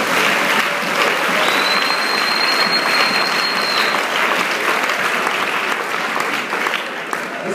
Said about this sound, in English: Come on, give Jesus a clap.